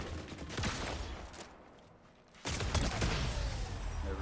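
Gunfire in the Fortnite video game, bursts of shots at the start, a brief quieter gap, then a loud renewed burst of rapid fire that continues to the end.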